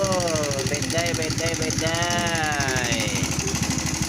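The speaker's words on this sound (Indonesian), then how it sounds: "dijuluki CBR klotok-klotok karena suara khas mesinnya yang seperti mesin dompeng" Honda CBR150R motorcycle engine with a knocking fault, running with a fast steady mechanical clatter, loud and close throughout, while a voice talks over it.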